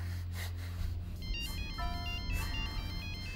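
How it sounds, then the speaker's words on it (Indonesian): A mobile phone ringtone plays a short repeating electronic melody for an incoming call, fairly quiet over a low background hum, with no one talking. "kebetulan sekali Karina telepon."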